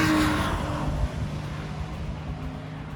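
A race car on the airstrip at the start of a lap at New York Safety Track, engine roaring loud and close, then settling into a steady hum with a faint rising tone.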